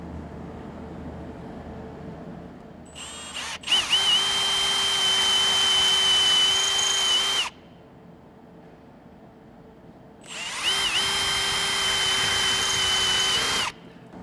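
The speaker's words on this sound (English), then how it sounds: "as the drill works its way through, it can go the whole way through" Two long bursts of a high-pitched power drill whining steadily as it drills through a vehicle pillar, each several seconds, with a quieter pause between them.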